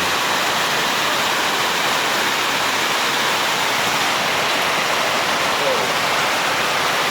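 Heavy rain pours at the entrance to the Pranburi Dam in Prachuap Khiri Khan, a dense, loud, steady hiss filling the whole span without letup.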